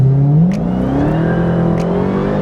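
A Dodge Hellcat accelerates hard, its engine note climbing loudly and steadily close by, with a couple of faint clicks and no talk.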